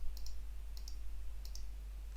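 A computer mouse clicks on software zoom buttons, three faint pairs of quick clicks spaced evenly over a low steady hum.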